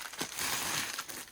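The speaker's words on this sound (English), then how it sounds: "So it comes in this bubble wrapped bag" A bubble-wrapped padded bag holding a diamond painting kit is handled up close, giving a brief burst of crinkling and crushing plastic lasting just over a second with no talk.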